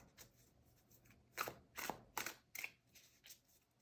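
Tarot cards being shuffled by hand come through as soft, quiet riffling bursts, about five or six short swishes in an uneven rhythm against a near-silent room.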